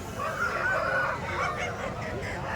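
Fowl calls from breed chickens at a busy country market, honks and clucks overlapping continuously for a couple of seconds amid dense crowd noise.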